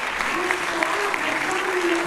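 After a public screening of the film Belle Fille at a premiere in Nîmes, a theatre audience gives close, steady applause, with a voice faintly underneath.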